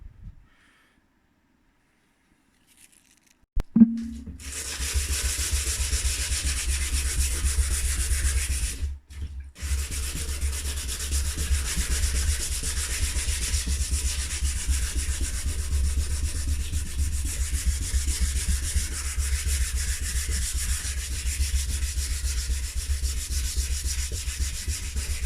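Scratched dirt bike plastics being sanded by hand, a continuous close scraping rub that starts after a few seconds of silence, pauses briefly near the ten-second mark, then carries on steadily to the end.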